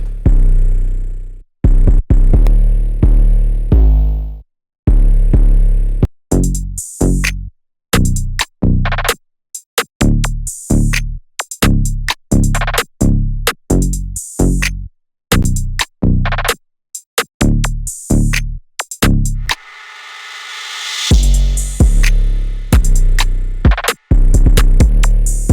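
Spins 808 bass in an FL Studio pluggnb beat: punchy, deep bass hits in a busy, choppy rhythmic pattern with frequent short notes and gaps, loud and upfront with a brief noisy swell near the end.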